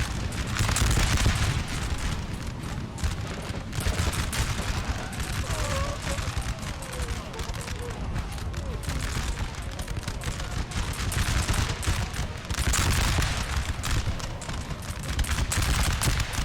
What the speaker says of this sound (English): Seeing quite a few bullets.